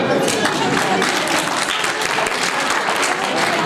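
Steady, dense clapping from a crowd at a comic poetry show at a college fills the whole stretch at an even, loud level.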